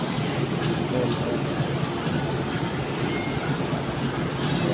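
A light rail train on the Manila LRT at Carriedo station rolls past nearby with a constant rumbling roar, rhythmic clicking from the wheels, and faint squeals.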